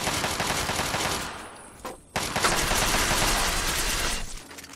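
Sustained rapid gunfire from a gun in Fallout 3, a dense, continuous rattle of shots that breaks off briefly for a moment before resuming just as loud and close, with no voices over it.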